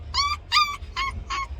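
A white Pomeranian puppy in a garden whines in four short, high-pitched whimpers in a quick, even series, close and fairly loud.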